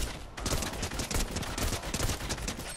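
Rapid video-game gunfire rattles in dense, loud bursts, overlapping volleys of shots crackling continuously with no break, close and dominant, without speech.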